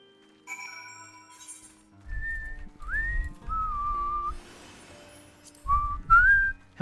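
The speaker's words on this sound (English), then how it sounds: "How many of you are like good whistlers?" A person whistles a tune in a series of clear, sustained tones with slides between pitches, paused and resumed, over faint low background noise.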